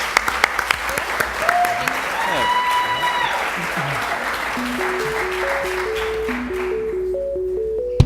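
Scattered claps ring out from an audience at a business challenge event, loose and uneven, while music with synth tones plays on and people talk over it.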